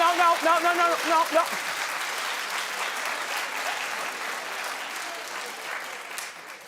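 Studio audience on a daytime talk show breaks into steady clapping that carries through the whole stretch, loud at first and then settling, with a host's voice heard briefly over the opening.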